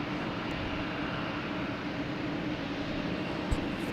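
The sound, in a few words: Lufthansa A340-600 airliner taking off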